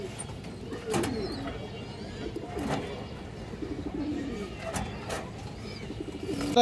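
Soft, low cooing from fancy pigeons for sale repeats several times at a moderate distance, with a few sharp clicks and light background noise.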